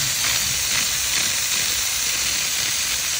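A VaporLUX 5000 steam cleaner releasing steam, a loud, steady, close hiss that holds continuously without breaks.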